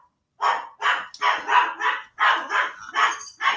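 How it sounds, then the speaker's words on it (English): A dog barks repeatedly at close range, about nine sharp, evenly spaced barks in a steady rhythm with no talk over them. "Shush, dog."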